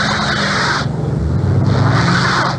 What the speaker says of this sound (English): A car going nowhere fast in New York City this afternoon, a sound that's become winter's theme song